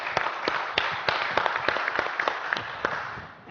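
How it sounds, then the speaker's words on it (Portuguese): Audience applause for a presenter being introduced on stage at a church program, a dense, steady wash of many hands clapping close by with sharp individual claps poking through, holding level for the whole stretch. "vamos aplaudir"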